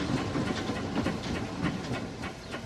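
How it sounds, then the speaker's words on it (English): A steam engine runs with a steady rhythmic chuff and clatter, loud and close, with hissing over a continuous mechanical rumble and no talk. "Just my wonderful steam engine, see?"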